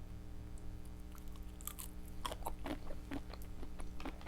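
Close, wet chewing and crunchy bites of shrimp cocktail with spicy horseradish cocktail sauce, a cluster of sharp bite clicks followed by steady mouth sounds, with no talking.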